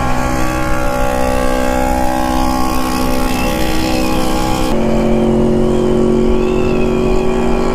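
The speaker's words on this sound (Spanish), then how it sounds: "La carretera hacia la Ciudad de México todavía va llena de motos." Motorcycles pass along the highway toward Mexico City, riders heading home from the Acamoto 2024 rally. Loud engine drone holds steady, then drops sharply in pitch partway through as one goes by.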